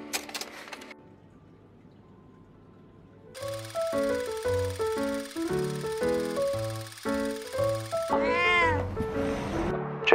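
A small cat meows during a rainy-day encounter in Suzhou, heard briefly near the start and again as rising cries near the end, with a loud musical passage filling the middle.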